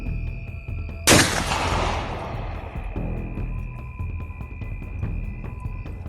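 A single loud gunshot cracks sharply and rolls into a long echoing decay over a steady low hum, with no further shots, heard amid a Papuan armed group's declaration of open war.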